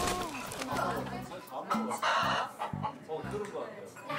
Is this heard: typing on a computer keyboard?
no